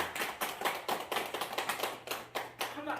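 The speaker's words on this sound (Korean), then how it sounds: "그럼 박수 한번 쳐주세요" A small group of elderly people applauds at a senior center, producing a steady run of fairly quiet, evenly spaced hand claps that lasts a few seconds.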